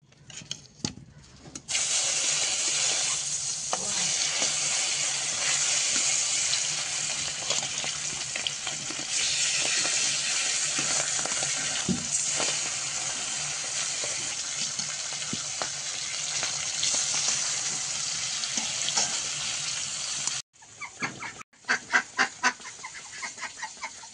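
Loud, continuous sizzling of fish frying in hot oil in a wok, spitting and crackling for a long stretch before cutting off, with brief spatters after.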